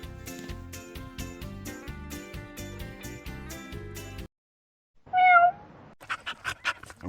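A melodic instrumental passage gives way to silence, then a single drawn-out cat meow, followed by a few short bursts of sound.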